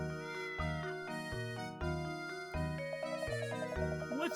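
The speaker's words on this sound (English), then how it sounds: "What's this cat doing here?" Cartoon cat meowing in the Professor Layton and the Curious Village video game, a few drawn-out meows over bright, continuous background music with no talk.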